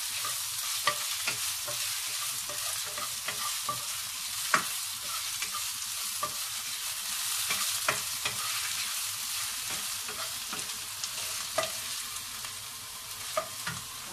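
Shallots fry in coconut oil in a pan, giving a steady, close hiss of sizzling oil with frequent sharp crackles and pops and occasional stirring scrapes throughout, with no talking.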